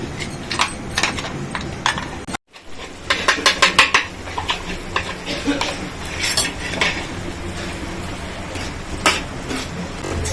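A spoon scrapes and clinks against a metal pan while peanut, almond, cashew and sesame powders are stirred in, with repeated close metallic knocks and scraping and a brief pause partway through.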